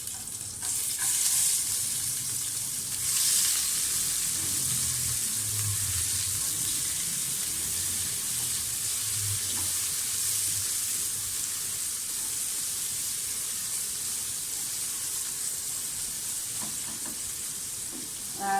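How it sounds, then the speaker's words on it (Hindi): Onions sizzling and frying in ghee with spices in a pan for mutton yakhni, a steady close hiss with occasional stirring, no talking. "साथ ही इसमें प्याज डाल दें, प्याज फ्राई होने के लिए डाल दें।"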